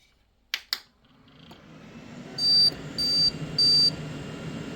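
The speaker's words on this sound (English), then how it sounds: "The beeps are memory training." Computer motherboard beeping during RAM memory training at startup, with all memory slots filled: three short, even electronic beeps spaced about half a second apart, after two sharp clicks and a rising fan hum.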